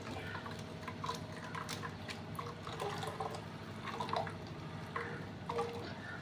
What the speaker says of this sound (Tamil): ஒரு கப்பு தேங்க ஒரு தேங்காய் பால் விட்டுட்டேன்